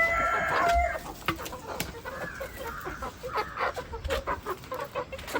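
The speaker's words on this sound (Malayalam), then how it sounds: "ഇതാ ഈ കൂട്ടിലുണ്ട്. എത്ര കോഴിക്കളുണ്ട് ടോട്ടല്? 50 കോഴിക്കളുണ്ട്." Chickens in a home coop holding about fifty birds of various breeds cluck and squawk, with a loud call at the start and then irregular clucks close by, mixed with rustling.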